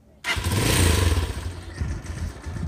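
A motorcycle engine catches abruptly from silence and runs loud and close, with a rough, throbbing mid-range rumble that settles slightly as it keeps running on a rural road. No one speaks.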